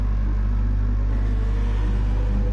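A Citroen race car engine drones with a steady low rumble throughout, loud and continuous, with no clear rev peaks; it sounds like circuit racing at Laguna Seca.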